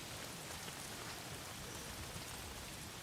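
Steady, dense rainfall in the video game Days Gone, an even hiss of drops hitting surfaces that fills the whole moment at a constant, fairly quiet level with no voices over it.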